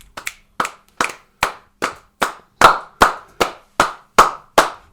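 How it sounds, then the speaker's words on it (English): Sharp hand claps strike in a steady, even rhythm, about a dozen loud, close beats spaced evenly as if keeping time to a chant, with no voices over them. "Do I have to clap?"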